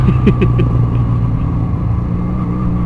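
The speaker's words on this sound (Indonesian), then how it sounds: "malah kedengeran lebih kedengeran suara knalpot ini. Padahal nih knalpot yang Benelli ini standar banget bro." A Benelli motorcycle with its stock exhaust running, a steady mid-pitched engine rumble close by with a few brief sharper ticks near the start, no voices.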